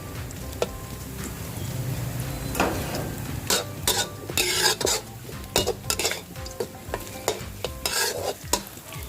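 Garlic fries in hot oil in a pan for garlic-pepper pork liver, a steady sizzle under repeated sharp clinks and scrapes of a utensil stirring against the pan, close and fairly loud throughout.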